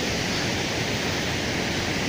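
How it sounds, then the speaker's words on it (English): Steady broadband rush of water in the river flowing down from Tinuy-an Falls in the Philippines, a continuous, loud, even roar with no breaks and no voices. "This is the river which going on from Tinuy Falls to the area."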